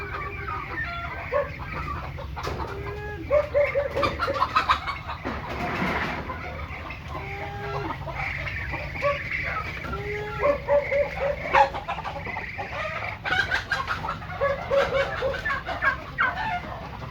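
A hen clucks repeatedly in short, throaty bursts, close by, over a busy farmyard background with other fowl sounds.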